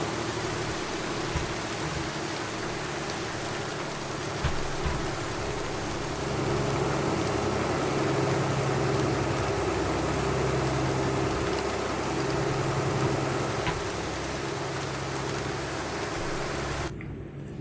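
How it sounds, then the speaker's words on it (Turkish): Steady rain in a trucking video game (Euro Truck Simulator 2) hisses continuously alongside a low truck engine drone, a dense, even wash of noise that cuts off abruptly at the end. "Dışarıdan efsane yağmur sesi var ha."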